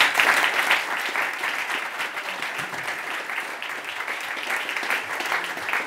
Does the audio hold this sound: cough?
no